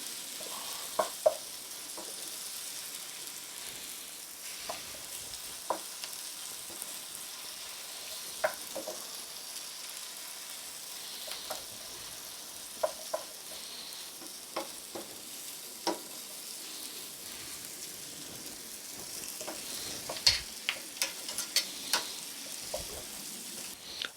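Stuffed mushroom filling fries in a pan with a steady soft sizzle, while a spoon scrapes and stirs in irregular clicks and knocks throughout.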